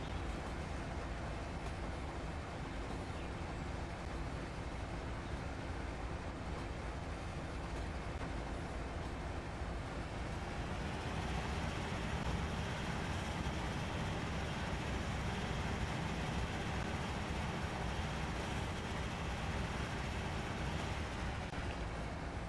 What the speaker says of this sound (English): there's an empty coal train heading to Beijing power plant that actually just came from Kenwick